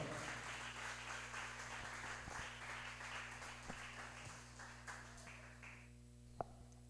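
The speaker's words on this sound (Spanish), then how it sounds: "Dele ese aplauso al Señor." A church congregation at an Asambleas de Dios service applauds: a faint, distant wash of clapping over a steady low hum, thinning and dying away near the end with one sharp knock.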